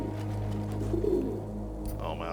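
A pigeon coos softly in the video game Battlefield 1, one low warbling call heard amid steady game ambience and a low background hum, with faint speech nearby.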